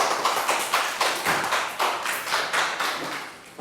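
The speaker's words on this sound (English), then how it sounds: "Round of applause for down." Year 3 math classroom applause from children, a rough rapid patter of small hands clapping across the whole stretch at moderate volume, with no talk over it.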